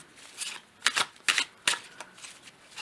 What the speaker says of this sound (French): Je vais prendre l'oracle du soleil et je vais voir ce qu'on nous dit sur cette carte du feu en automne